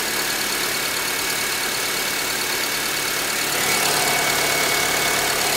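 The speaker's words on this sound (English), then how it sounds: "All I can hear is the injectors firing off" A 2010 Honda Civic engine idles in a steady, even drone, heard up close with the bonnet open, fast faint ticking from the fuel injectors running through it and no voices.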